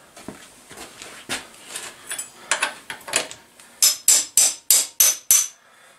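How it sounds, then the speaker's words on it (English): A hammer strikes a part of a 1964 Evinrude 40hp outboard motor repeatedly, the blows starting light and irregular, then growing louder and faster into a string of hard, ringing hits. "Need my impact driver, otherwise known as a hammer."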